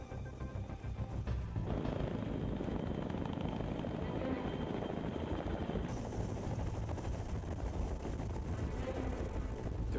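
Helicopters approach a concrete pier pad smaller than a football field, troop carriers landing first on a presidential mission; a continuous rumbling rotor chop and engine drone fill the scene, with a voice talking over it.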